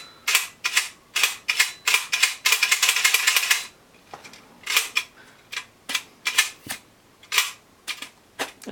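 A metal-bladed Packard-Ideal camera shutter snaps open and shut over and over, sharp close mechanical clicks in a quick irregular series with one longer rattling stretch, heard alone.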